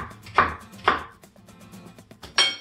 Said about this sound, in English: You're just gonna cut some rough chops downwards in your onions